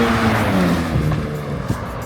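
A 2026 Dodge Charger drag build speeds past close by, its engine loud and revving, then backs off as it passes, with a brief tire squeal.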